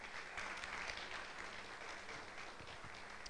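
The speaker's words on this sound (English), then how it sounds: "you guys should give us a round of applause" Audience applause at a presentation, steady, fairly faint, distant-sounding clapping from a gathered crowd that holds evenly throughout.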